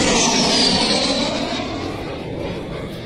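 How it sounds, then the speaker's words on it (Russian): A Russian cruise missile flying low just overhead, a loud, broad jet roar that stays steady and slowly fades as it passes, heard alone outdoors. "ракеты летят"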